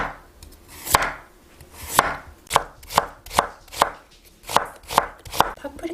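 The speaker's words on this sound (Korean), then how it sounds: "자, 당근도 채 썰어주세요." Carrots being julienned with a knife on a cutting board, about a dozen crisp, evenly spaced chops that speed up slightly, close and clear with no voices.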